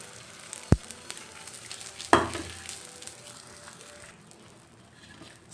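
Beaten eggs hit an oiled pan beside toasted wheat bread and sizzle with a soft, steady frying hiss, punctuated by two sharp clinks, then settle into quiet crackling.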